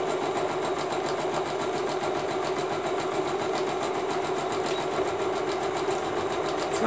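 A sewing machine stitches at a steady, fast, even rhythm. Its close mechanical whir and clatter run without a break for the whole stretch, and no voices are heard.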